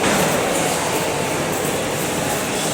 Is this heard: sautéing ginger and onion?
no